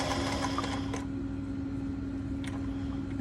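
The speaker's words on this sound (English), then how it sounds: "I'm going to stitch up, and then I'm going to lift my presser foot and turn my fabric, and then I'm going to stitch across." A sewing machine stitches fabric while an old pair of overalls is turned into an apron, running steadily and close for the whole stretch with a constant motor hum and brief pauses as the presser foot lifts and the fabric turns.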